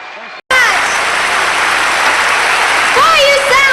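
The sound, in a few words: live concert audience applauding and cheering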